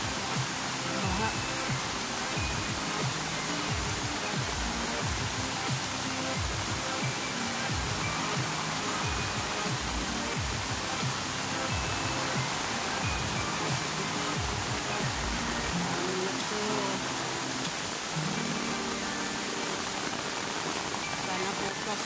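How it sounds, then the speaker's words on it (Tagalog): Broad, steady roar of rushing floodwater, dense and continuous like a torrent, holding loud throughout with a slight swell and no distinct breaks. "Unting-unting malakas yung baha."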